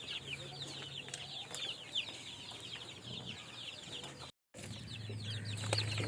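Chicks peep in a busy, high-pitched chorus while hens cluck softly nearby, with a brief silent gap partway through.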